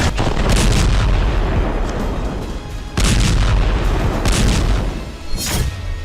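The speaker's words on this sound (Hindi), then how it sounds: "और अब भीषण बमबारी की जा रही है" Heavy bombardment and artillery fire in Khan Younis, Gaza: loud, rumbling blasts that roll into one another, with a sharp new boom every few seconds.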